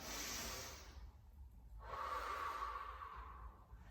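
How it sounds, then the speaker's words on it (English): Steady breathing in and out during a Pilates exercise on the floor, a long airy inhale followed by a smoother exhale, close and soft with no talking. "You're going to inhale and exhale."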